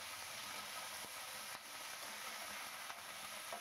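Cauliflower frying in hot oil with salt over high heat, a steady, faint sizzling hiss broken by a few soft stirring clicks.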